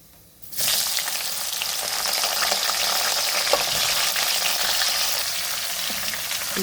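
Cauliflower frying in oil with black cumin and a pinch of salt, a steady loud sizzle that starts abruptly after a brief quiet moment and holds evenly throughout, with faint stirring clicks and no voices.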